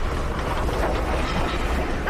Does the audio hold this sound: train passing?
yes